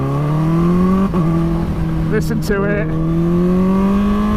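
A Kawasaki Ninja H2 motorcycle with the baffle fitted in its exhaust runs with a loud, steady engine drone that rises slightly in pitch as it revs, while someone speaks briefly over it.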